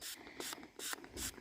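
A spray bottle squirted at a horse in four quick hissing bursts in an even rhythm, close and fairly loud with the trigger mechanism clicking.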